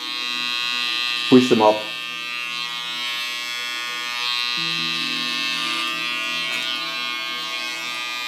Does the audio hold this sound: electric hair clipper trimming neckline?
yes